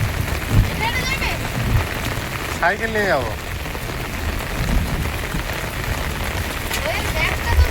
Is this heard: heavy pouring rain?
yes